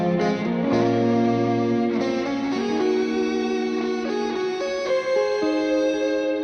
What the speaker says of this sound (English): He sent through these guitars, and I just think they're ridiculous.